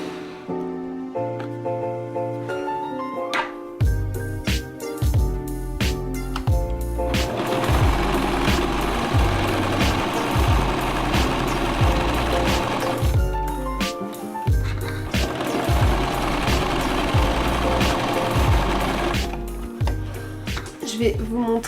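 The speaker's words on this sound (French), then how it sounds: "la prochaine étape, vous avez deviné que c'est tracer ces lignes, mais avec du fil cette fois, donc à la machine" A sewing machine stitches lines across fabric coasters in long, steady whirring runs with a brief pause midway, while someone talks in French over it.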